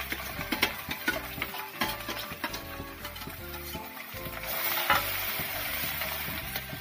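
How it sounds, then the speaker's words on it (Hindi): Chopped garlic and ajwain seeds fry in hot oil in a home kitchen pan, giving a steady crackling sizzle broken by scraping, clicking stirs from a spoon. No one speaks. "थोड़ा सा इसको ब्राउन होने तक भूनेंगे।"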